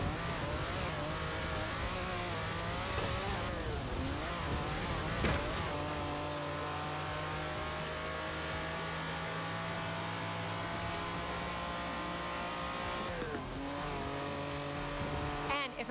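A Lamborghini Countach engine drones steadily while driving in the racing game Forza Horizon 4, a sustained, fairly faint tone whose pitch rises and falls and shifts sharply twice as the car changes speed.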